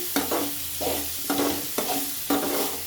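Finely chopped tomato frying in a pan, with a bright sizzle and four distinct rhythmic spatula scrapes roughly half a second apart, close up and without any voices.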